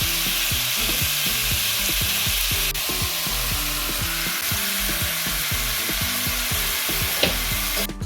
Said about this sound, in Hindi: इसमें ऑयल डाल के और अच्छे से चिकन को पका लेना है।